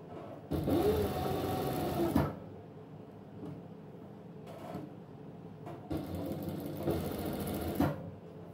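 An electric sewing machine stitches a single-piece garment placket in two steady whirring runs of about two seconds each, with a quieter stretch of handling noise between them.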